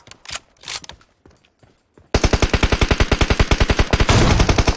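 Rapid automatic gunfire from a team fighting in the battle royale game PUBG, a steady loud burst of evenly spaced shots in the second half, after quieter scattered clatter and distant reports.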